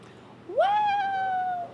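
A large fluffy cat gives a single drawn-out meow that rises then holds steady, clear and close, over quiet room noise.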